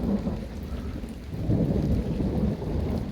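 A deep rolling rumble of thunder swells and lingers over steady heavy rain during a thunderstorm above a garden, loud and close, with no talking.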